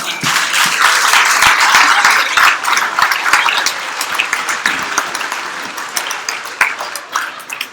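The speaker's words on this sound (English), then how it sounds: "Give him a big round of applause right now." An astronomy talk audience at a bar-style science night claps loudly, the applause thinning out into scattered individual claps toward the end.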